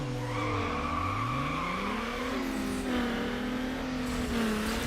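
In a Need for Speed: Underground drag race, a car engine revs hard through rising and falling sweeps, with brief tire squeal mixed in, loud and close, with no talk.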